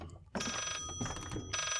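Old-style telephone bell rings in bursts inside the Layers of Fear horror game, two clear trilling rings separated by a short gap, fairly close and on its own.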